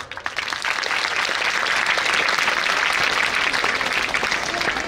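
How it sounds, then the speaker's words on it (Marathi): Audience applause fills a school's annual social gathering: dense, steady clapping from a large crowd that starts almost at once and holds at an even, loud level throughout. "कशासाठी वाजवल्या टाळ्या त्याचं कारण सांगतो"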